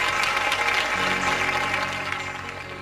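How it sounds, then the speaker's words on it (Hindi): Church congregation applauding together to thank God, a dense, steady clapping that fills the room and slowly fades toward the end. "सभी जन सबसे पहले तालियों के साथ परमेश्वर का धन्यवाद करें"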